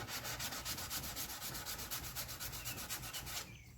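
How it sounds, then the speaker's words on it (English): A soft sanding block rubs back and forth over the body of a 1969 Dodge Dart during paint preparation, a close, loud, rhythmic scrubbing with about two dozen quick strokes that stops just before the end. "Making sure the roughness is sanded out and the area is ready and ready for paint."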